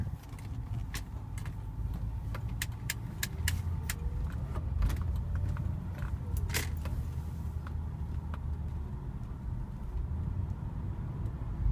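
A Mercury Grand Marquis with air suspension drives down a quiet residential street, giving a low, soft road rumble. Scattered light clicks and rattles from inside the cabin come and go over it, and no one talks.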